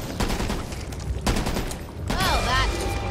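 Gunfire in the video game Back 4 Blood inside a tunnel, a few loud close bursts over a noisy combat bed, with voices talking over it and a warbling creature-like cry near the end.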